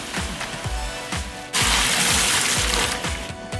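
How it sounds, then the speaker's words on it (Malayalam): A gush of water pours into a cooking pot of rice for Kerala-style beef biryani, a loud rushing splash beginning midway, with rhythmic clicking and tapping in the background. "അപ്പോൾ നമ്മൾ ഇതിലേക്ക് വെള്ളം ഒഴിച്ചു കൊടുക്കുകയാണ്."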